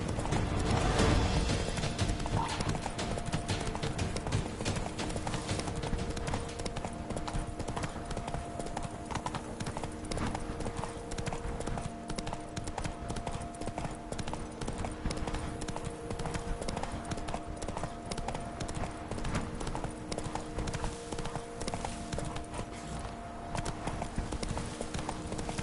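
A horse gallops in the video game Death March, its rapid clip-clop hoofbeats sounding steadily and up close throughout, over a faint mechanical rattling.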